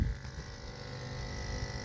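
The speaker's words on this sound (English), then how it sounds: "Vacuum pump is on." A vacuum pump runs with a steady electric buzz and low hum, close and even throughout, no voices over it.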